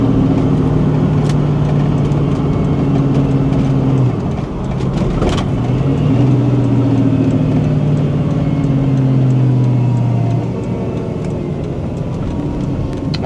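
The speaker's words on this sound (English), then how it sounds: "Nice headers, dual exhaust, Flowmaster sound really good." A 1994 Ford Mustang V8 with headers and a Flowmaster dual exhaust drives along, its steady deep engine drone loud and continuous with a gear change partway through and road noise over it.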